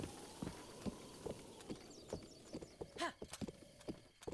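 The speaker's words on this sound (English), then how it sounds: "Golden trail for a golden-haired horse." A golden-haired horse clip-clops along a rocky mountain trail in a Hyrule video game. The hooves fall in a steady walking rhythm, and a brief whinny rises partway through.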